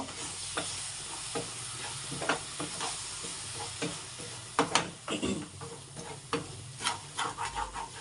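Egg and dill leaves stir-fry in a hot pan with a soft continuous sizzle, broken by repeated scraping strokes of a spatula at an irregular, unhurried pace, fairly close.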